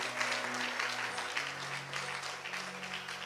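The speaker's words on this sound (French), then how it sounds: "On peut acclamer la lecture de ces longs versets." A church congregation applauds after a Bible reading, with dense, sustained clapping from many hands filling the room and a low hum underneath.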